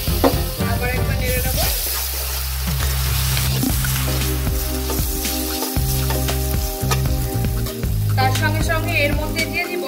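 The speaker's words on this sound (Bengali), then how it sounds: "আদা রসুন বাটা জাস্ট একটুখানি, আবার একবার নেড়ে নেব।" Ginger-garlic paste fries in a pan for stuffed capsicum, a loud continuous sizzle with repeated scraping stirs of a spatula, close up and without talk.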